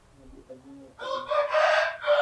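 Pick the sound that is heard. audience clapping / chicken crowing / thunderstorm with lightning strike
chicken crowing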